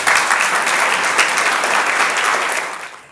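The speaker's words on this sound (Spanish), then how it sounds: "para quien pido un fuerte aplauso." Strong audience applause fills the room at a Spanish-language book presentation, a dense steady wash of many hands clapping that stays loud before tapering off at the end.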